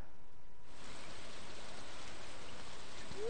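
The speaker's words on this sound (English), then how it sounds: "Why are you out here in the rain?" Steady rain hisses in the farming video game Stardew Valley, a soft continuous wash of drops that swells in after a quiet opening and then holds evenly.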